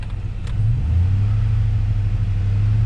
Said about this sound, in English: Give the truck gas